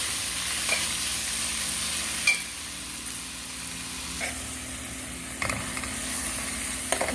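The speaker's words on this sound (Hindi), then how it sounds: "अब हम इसमें डालेंगे टमाटर का पेस्ट थोड़ा सा, और ये मसाले। इसको भी अच्छी तरह से हम मिक्स कर लेंगे।" Macaroni in a pan, with a little tomato paste and spices being mixed in, gives a soft, even frying hiss and a few faint stirring scrapes, fairly quiet throughout.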